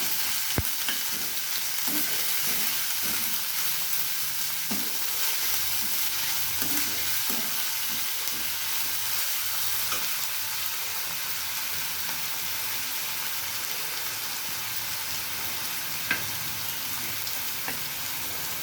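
Steady, moderately quiet sizzling of hot oil tempering in a pan with a pinch of salt, for a radish stir-fry, continues throughout, with occasional soft stirring taps.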